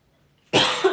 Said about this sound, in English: I thought I got rid of my cough last week.